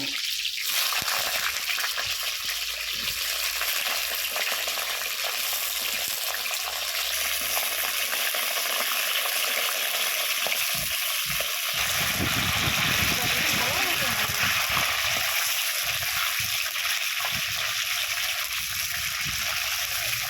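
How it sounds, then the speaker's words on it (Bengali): Pieces of pointed gourd (potol) fry in white oil with a loud, steady sizzle and a watery hiss. A voice talks over it at times. "পটলগুলো এক এক করে আমি ভেজে নেব"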